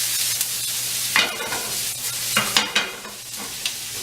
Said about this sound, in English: Now we'll saute this until brown.